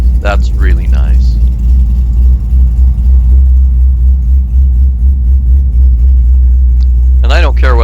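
A steady, loud low engine rumble from a Camaro IROC-Z cruising on Woodward Avenue fills the clip, with brief bits of speech near the start and end.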